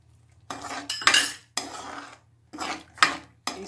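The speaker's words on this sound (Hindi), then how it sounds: "इसको हम अच्छे से हिला लेंगे।" Cashew paste being stirred into masala in a metal pan, heard as bursts of clattering spoon strokes against the pan. The strokes come in separate groups with short pauses between them, close and fairly loud, with no voices.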